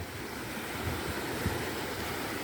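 Calm sea waves wash gently onto a sandy beach in Side, Turkey, in the early morning, giving a steady soft surf wash with light wind and no voices.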